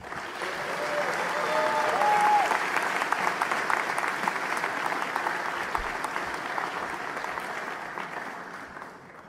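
Sustained, loud applause from a commencement audience welcoming the keynote speaker at a 2015 undergraduate graduation ceremony, dense clapping that swells early and then slowly tapers.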